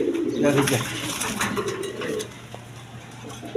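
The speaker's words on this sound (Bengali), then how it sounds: "এক বোম্বাইয়ের বেবি কবুতর আছে" A baby Bombay pigeon coos softly at close range over a couple of seconds, with faint clinks and other loft noise around it.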